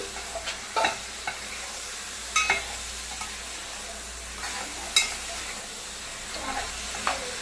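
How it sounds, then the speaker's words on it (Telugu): Raw mutton pieces fry in a pan with a steady low sizzle, and a spoon scrapes and stirs them in scattered strokes that land every second or so. No one speaks. "ఇవి పచ్చి వాసన పోవడానికి కొద్దిసేపు ఫ్రై చేస్తానండి"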